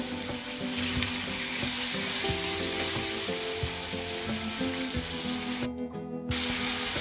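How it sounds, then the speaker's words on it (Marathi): Curry leaves and garlic sizzle and fry in a pan for chutney, a steady close crackle with occasional stirring scrapes, alone without voices. "परतत असताना त्याच्यामध्ये थोडासा कढीपत्ता टाकायचा"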